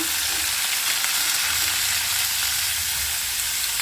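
Sweet pumpkin peel frying in hot oil, a steady broadband sizzle with faint stirring scrapes underneath, continuous and close with no voices.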